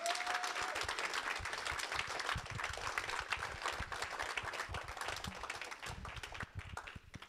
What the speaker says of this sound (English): Please give Don another round of applause